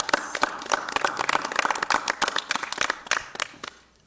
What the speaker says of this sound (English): she clapped quickly so that I wouldn't say too much